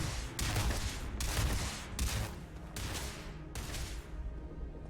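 Rifle fire on a Marine training range in Starfield, a run of loud, evenly spaced bursts of gunshots, each lasting under a second, close and dominant, with brief pauses between volleys.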